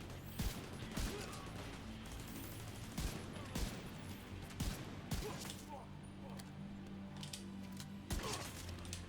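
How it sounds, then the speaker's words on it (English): Gunfire in The Division 2 on Xbox Series X, a pistol shot among several sharp reports and mechanical clicks over steady game background noise, with a voice talking intermittently. "That was a pistol shot right there"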